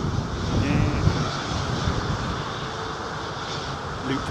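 Rolls-Royce Trent engines hum steadily on an airliner at Heathrow, a broad, constant drone heard from a moderate distance with no talking.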